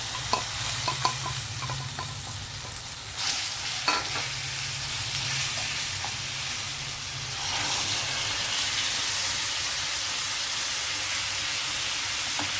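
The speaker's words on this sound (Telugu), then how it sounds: "వేగిపోయిందండి మన తాలింపు అయితే, చక్కగా వేగింది. పచ్చడి వేసాను." Coriander stem chutney is added to a hot tempering in a pan and sizzles with a steady frying hiss. Light stirring scrapes and clicks run through it, with no voices.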